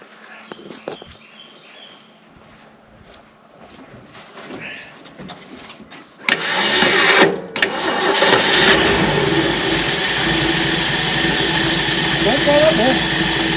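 A '66 Ford race truck's engine cranks with a few stuttering catches, then fires and settles into a loud, rough, steady idle close by, with people talking in the background at the start.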